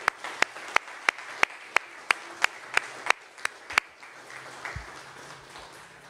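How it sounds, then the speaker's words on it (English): A round of applause at a fire and life safety department recognition ceremony, heard as a short run of sharp, evenly spaced claps that stops after a few seconds, leaving quiet room noise. "recognize him once again with a round of applause"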